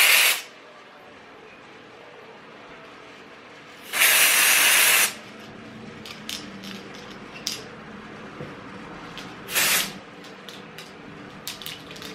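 Several bursts of aerosol temporary hair color spray hiss loudly, one long blast and shorter ones, separated by quiet rustling and small handling clicks.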